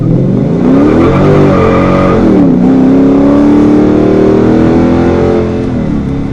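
Car launching hard on Nitto NT555 G2 tires, engine revving loud and close with rising and falling pitch as the tires spin, a continuous roar for several seconds.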